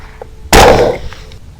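A single loud, sharp rifle shot rings out at a previously wounded hog during a night hog hunt, followed by a quick decaying echo over faint background noise.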